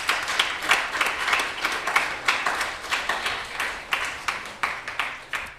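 Audience applause in an ISKCON temple room in Dallas, a sustained wash of many hands clapping with distinct sharp claps standing out, fairly loud and steady for several seconds.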